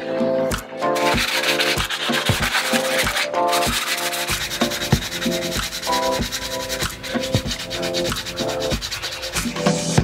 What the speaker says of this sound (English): now I can sand it smooth and see if all the edges are gone